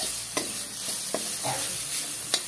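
Vegetables tipped into a spiced masala sizzle loudly in the pan, with several sharp scraping stir strokes over a steady hiss, close by and without voices.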